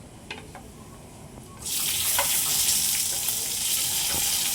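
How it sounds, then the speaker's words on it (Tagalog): Onion and tomato dropped into a hot pan: a few light clicks, then a sudden loud hissing sizzle that holds steady, with faint stirring taps underneath. "Ilagay ang sibuyas at kamatis."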